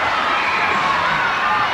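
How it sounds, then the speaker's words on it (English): A netball crowd at a 1998 Melbourne Phoenix versus Melbourne Kestrels match roars and cheers loudly and continuously after an equalising goal, a dense wash of voices with no pauses. "It's brought the crowd alive."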